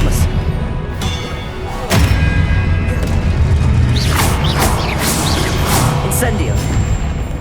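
Spell casting in Hogwarts Legacy, loud and dense: a heavy booming impact early on, then whooshing magical bursts and crackling sweeps layered over continuous game effects and music.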